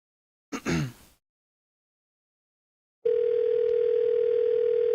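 A telephone dial tone starts abruptly and holds as a loud, steady, unbroken hum for the last two seconds, after a brief sound and a stretch of silence.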